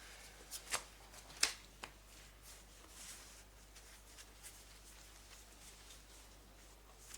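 Cards drawn one by one from a deck during a Star Wars Unlimited tabletop match, a few crisp card slides and snaps early on, then quieter soft rustling, close and faint with no talking.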